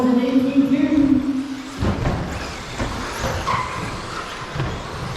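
Team Associated 13.5 stadium trucks race at a club track, their electric motors giving a steady whine with a brief skid-like burst midway, heard under a continuous announcer's voice.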